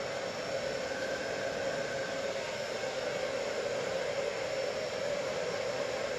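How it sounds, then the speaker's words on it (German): A hair dryer blows a steady, even whoosh over hair set in rollers, running continuously and fairly quietly with no voices. "Und nun föhnen wir ein klein wenig die Haare an."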